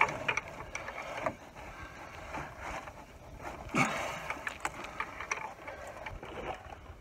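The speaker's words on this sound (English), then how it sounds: "we're going to put a wrench on her and loosen this bolt." Metallic ratcheting and clanking as a wrench loosens a bolt on a 4L60E transmission under a 1998 Chevy Gladiator van, close and moderately loud over a steady background hum.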